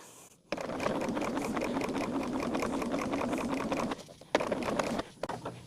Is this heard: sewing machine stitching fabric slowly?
yes